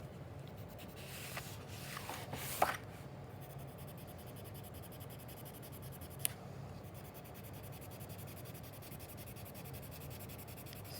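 A colored pencil burnishes across paper in a faint, close, continuous scratchy rubbing, with a couple of small taps along the way.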